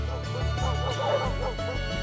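English Springer Spaniels bark and yip in quick, overlapping bursts, close and fairly loud, with some whimpering mixed into the repeated barks.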